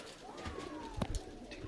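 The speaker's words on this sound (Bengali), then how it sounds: "বন্ধুরা দেখুন বড় সাইজের পায়রা আছে" Large pigeons coo softly in a loft, with low throaty calls and a brief clatter of movement partway through, set against a quiet background hum.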